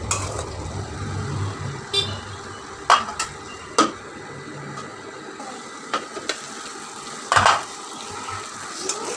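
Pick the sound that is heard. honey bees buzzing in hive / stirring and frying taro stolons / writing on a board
stirring and frying taro stolons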